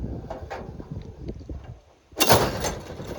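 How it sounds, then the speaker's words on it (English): A baited animal cage trap fires after a near-silent pause: its lock bar and guillotine doors drop and lock with one sudden, loud metallic clatter, then ring briefly and rattle to a stop. "as the trap fires, as the doors go down, they lock"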